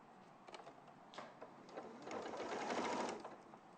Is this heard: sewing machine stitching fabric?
yes